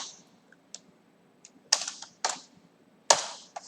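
Computer keyboard typing in a quiet room as commands are entered at a command prompt, scattered light key clicks building to a few louder bursts of rapid keystrokes, close and alone.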